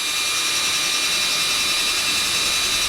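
A steady, loud high-pitched whine from an APR AP127+ impact wrench spinning freely at speed 1 in tightening mode, holding constant and close, ending with a brief click.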